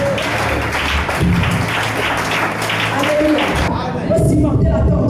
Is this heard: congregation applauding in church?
yes